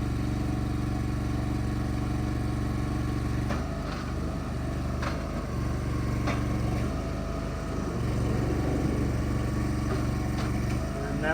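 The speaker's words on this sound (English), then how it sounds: "a lot of what you're hearing underneath there is the gravel that's underneath the vehicle as the rollers are going over it" A vehicle rolls slowly over gravel on ResQtrack recovery tracks, the rollers crunching and grinding beneath it over a steady engine drone, with a few sharper clicks and scrapes scattered through.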